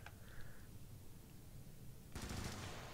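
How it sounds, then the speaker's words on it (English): Automatic gunfire from Helldivers, a rapid burst of shots starting near the end and loud, following quieter game ambience. "Hold right trigger for automatic fire."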